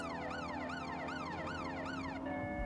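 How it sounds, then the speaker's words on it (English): A wailing electronic vehicle siren in the game Watch Dogs: Legion sweeps up and down in steady repeated cycles, loud and close, over a constant engine hum, then settles into a steady tone. "I got my sirens on"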